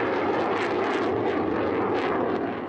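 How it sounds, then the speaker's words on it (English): Fighter jet jointly developed by China and Pakistan roaring overhead, a steady broadband engine rush that swells slightly and fades at the end, continuous and without voices. "the 2 countries are jointly developing this fighter jet"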